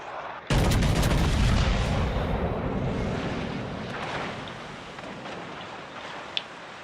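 Warship main guns fire in World of Warships Legends with one loud, sudden blast that rolls into a long rumbling decay lasting several seconds.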